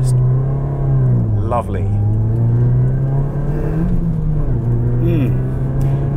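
A Toyota Yaris GRMN hot hatch engine drones loud and steady from inside the cabin while driving, its pitch rising and falling a little through light throttle changes. A voice speaks briefly over the engine.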